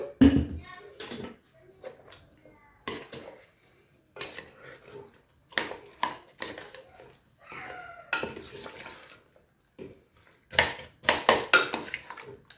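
Harira soup ingredients being mixed in a pot come through as intermittent scraping and clinking of a utensil against metal, in short bursts with quiet gaps, close and fairly faint; no talking.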